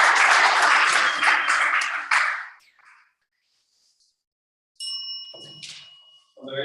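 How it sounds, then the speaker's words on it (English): An audience at a philosophy college debate in Lusaka, Zambia claps loudly for about two seconds before the applause fades out. After a pause come a bright ringing ding and a few soft knocks. "We accompany the round of applause."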